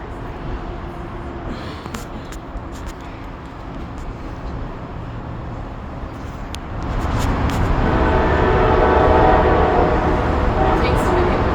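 A passing train sounds its horn at a busy station, with rail rumble building and staying loud in the second half, plus a few sharp clanks and faint voices in the background.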